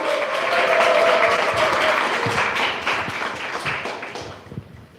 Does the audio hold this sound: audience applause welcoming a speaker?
yes